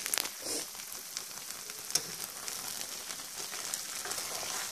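A cream and parsley sauce simmering gently over low heat, giving a soft, steady crackling sizzle with faint bubbling pops, close and quiet, with no voices.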